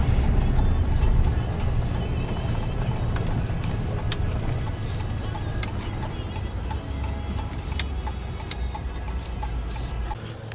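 An old Ram pickup truck rolls off onto the roadside, with a loud interior rumble and scattered ticks and clunks over the engine drone as it slows.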